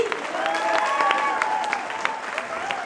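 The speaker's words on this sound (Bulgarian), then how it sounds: "Аплодисменти!" Concert audience applauding at a Bulgarian pop performance in Montreal, a steady wash of clapping mixed with scattered vocal tones and cheers, sustained throughout at moderate loudness.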